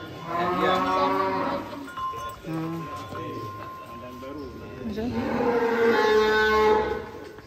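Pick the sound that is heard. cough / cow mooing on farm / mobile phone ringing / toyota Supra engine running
cow mooing on farm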